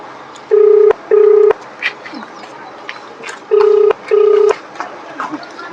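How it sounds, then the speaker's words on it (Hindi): Telephone on speakerphone placing a call to a district magistrate's office, giving four long electronic tones in two paired bursts, loud and close, with faint background noise between them. "डीएम गाजीपुर को फोन लगाया गया, घंटी जा रही है"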